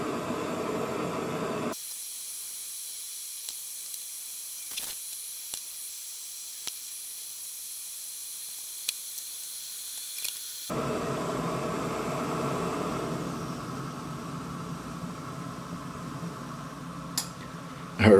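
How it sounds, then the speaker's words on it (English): A penny stove roars with a steady hiss as it heats a pot of water for backpacking food, the flame noise cutting in and out in long stretches with small clicks in between. "We have our handy penny stove, and we just crank up the heat."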